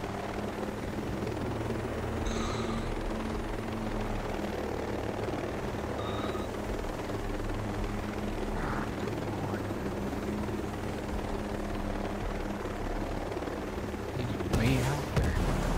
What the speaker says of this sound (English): My helicopter to the left.